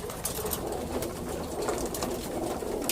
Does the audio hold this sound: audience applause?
no